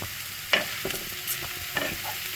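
Sliced onions with salt are stirred and fried in a pan, giving a soft continuous sizzle broken by a few distinct scrapes and knocks of the spoon against the pan.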